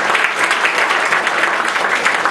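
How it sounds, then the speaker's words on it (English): A live audience at a short stage demonstration gives volunteer Kelly a big round of applause: dense, steady clapping that fills the room loudly and evenly from start to finish, with no talking. "Give Kelly a big round of applause"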